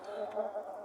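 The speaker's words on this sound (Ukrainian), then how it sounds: "Тут десь муха шумить" A faint fly buzzes briefly nearby, a thin wavering drone under quiet background.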